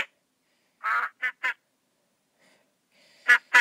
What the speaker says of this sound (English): Let's get a duck.